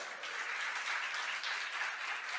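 A church congregation applauds during a Portuguese-language sermon, producing a dense, even roar of many clapping hands at moderate distance, sustained without a break for a couple of seconds.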